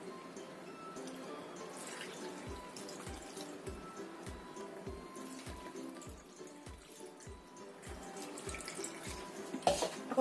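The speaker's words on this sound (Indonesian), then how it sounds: "Kemudian kita cuci sampai bersih ya." Cut food being washed in water at a kitchen sink: a steady stream of running water with a regular series of soft drips or taps, close and continuous, without speech.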